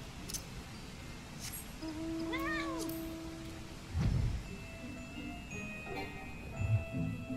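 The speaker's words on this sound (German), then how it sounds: "Nehmen wir die dicke Katze mit." A single cat meow in the online game Final Fantasy XIV, clear and moderately close over quiet game ambience, followed by soft clicks and thumps.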